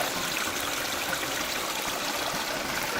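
Steady, soft rush of creek water flowing through a forested Cascade setting, a continuous even wash with no talking.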